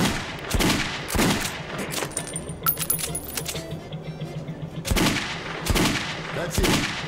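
Gunfire in the Metro video game: sharp, loud shots come in small clusters, two early and then a quick run of three later, with clinking and rattling game sounds in the quieter gap between.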